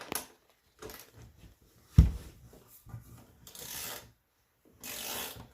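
A socket wrench with a 10mm socket works loose a generator's mounting bolts in quiet short bursts of ratcheting clicks, separated by pauses and faint handling noises.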